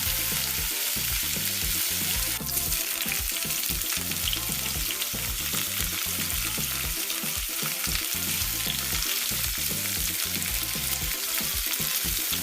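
Fresh mixed vegetables and whole kernel corn go into a hot pot for creamy curried corn soup, bringing a loud, steady sizzle with scraping stirs throughout and no talk.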